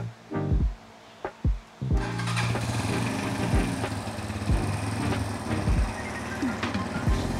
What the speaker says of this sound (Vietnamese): đầu tiên là mình sẽ cho anh em nghe trước về âm thanh của lon bô jean này nha